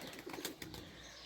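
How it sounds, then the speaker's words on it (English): Domestic pigeons in a loft give soft, faint cooing, with a brief flutter or rustle mid-way, quiet and close in a short stretch. "Birds are very excited."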